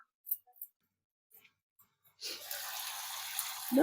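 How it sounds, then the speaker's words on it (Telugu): Water pours into a cooking pot of rajma rice pulao, a steady splashing stream that starts after a few faint clinks and keeps running loud and close to the end. "ఇప్పుడు ఏంటంటే సరిపడా వాటర్ వేస్తున్నాను. రైస్కి సరిపడా వాటర్."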